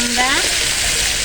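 Jackfruit hits a hot pan and fries with a loud, steady, close sizzle that stays constant throughout.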